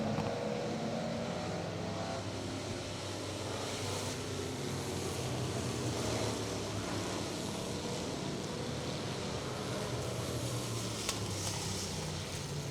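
Factory stock cars race at Talladega Short Track, a steady loud roar of engines under a constant crowd-and-track wash with no break across the stretch.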